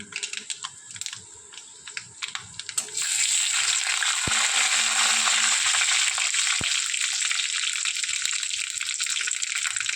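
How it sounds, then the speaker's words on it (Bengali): Black mustard seeds dropped into hot oil in a pan, starting with scattered clicks and taps, then breaking into a loud, dense, continuous sizzle and spatter that holds steady to the end. "তেল গরম হয়ে গিয়েছে, এরপর এতে আমি ফোড়ন হিসাবে একটু কালো সর্ষে দিয়ে দিচ্ছি"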